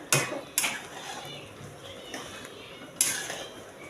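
A pan of paneer and green peas curry gets stirred, with a few sharp metallic clinks of a spoon against the pan, including one at the start and one near the end, over a quiet background hiss.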